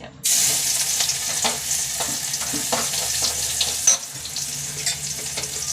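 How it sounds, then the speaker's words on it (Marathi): Garlic dropped into hot oil with cumin and mustard seeds while cooking drumstick curry, a sudden burst of loud sizzling that keeps crackling and popping close up with occasional stirring clinks, no voices. "आता लसूण टाकते"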